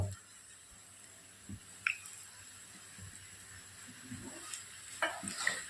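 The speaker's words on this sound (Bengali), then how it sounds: "দিয়ে ভালো করে নাড়াচাড়া করবো।" Fried rice with milk and a splash of kewra water being stirred in a pan at home, soft scraping and faint sizzle with a few sharper clicks of the spatula against the pan.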